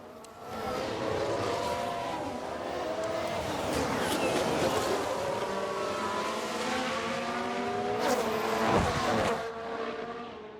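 Formula 1 race cars in the F1 Manager 2022 video game drone past on track at the French Grand Prix, layered engine whines rising and falling continuously with a louder passing surge near the end, under faint commentary.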